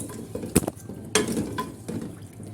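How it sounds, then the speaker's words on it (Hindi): Mutton pieces fry and get stirred in a pot for a dhaba-style gobhi gosht curry, with a low sizzle and a few sharp metal scrapes and clinks of the spoon against the pot. "गोश्त हमारा बहुत अच्छे से भून रहा है"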